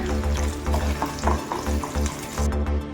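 Ginger paste and onion frying in hot oil with green chillies in a pan, a steady dense sizzle with stirring scrapes pulsing through it, close and loud, no speech.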